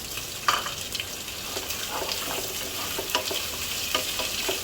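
Onion and green chili frying in oil for an okra fry: a steady crackling sizzle with small pops, close and continuous, with no voices.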